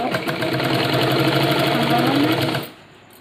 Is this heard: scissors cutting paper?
no